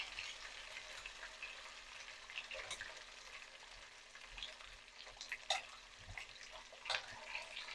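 Garlic sizzles steadily in a hot pan while a utensil stirs it, with occasional sharper scrapes and clinks standing out over the continuous close frying hiss; no one speaks.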